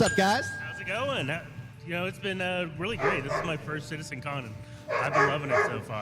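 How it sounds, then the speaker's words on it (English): Dogs bark and yip in the background of a busy convention livestream at CitizenCon, repeated sharp barks mixed in under steady, close conversational speech. "Apologize for the dogs."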